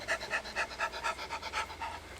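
A person imitates a dog by panting, about nine quick rhythmic breaths in steady succession, close and fairly quiet with no talking.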